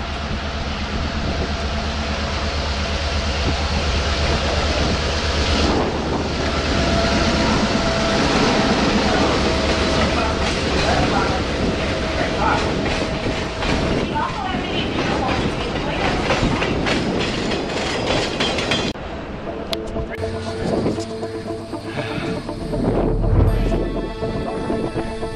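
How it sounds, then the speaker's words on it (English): A train rumbles past close by at Stone Mountain with loud clattering wheels and rushing wind noise, fading toward the end as a low hum remains. "Here come the train."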